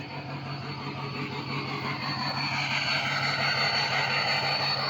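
A running vehicle, likely a 7.3 diesel truck, idles with a steady droning exhaust and a continuous engine hum, fairly loud and close, with no voices over it.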